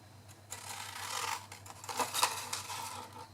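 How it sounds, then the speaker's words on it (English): Scissors cut card bottom panels along a score line while making a gift bag, a close, continuous crisp snipping and rasping that lasts several seconds over a low background hum. "we're just going to cut up the bottom panels to that score line"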